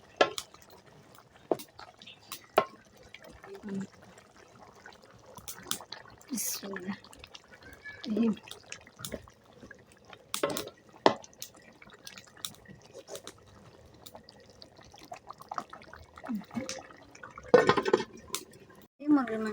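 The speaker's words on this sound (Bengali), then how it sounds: "আমি এখন মাংস জুসগুলো দিয়ে দেবো" Meat juices are poured into a pan during cooking, giving wet splashes and drips alongside clinks of utensils and pots, with scattered clattering transients and a person talking at points.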